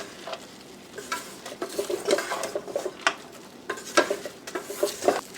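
A spoon scrapes and clinks around a pot of rice seasoned with adobo, irregular stirring strokes over a soft frying sizzle, close up and without talk.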